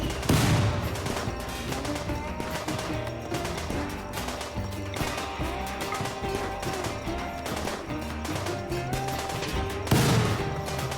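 RimWorld gunfire sounds as a sustained, dense rattle of rapid shots that runs on with little pause, with heavier bursts at the start and near the end.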